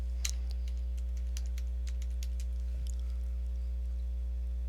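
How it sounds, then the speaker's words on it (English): Someone types a command on a computer keyboard at a router lab terminal. Quick, light key clicks come in an irregular run, close and clear over a steady low electrical hum, with a slightly heavier keystroke near the end. "We're going to type in show IP protocols."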